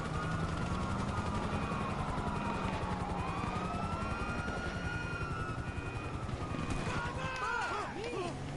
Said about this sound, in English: Right, there's a police helicopter right above him.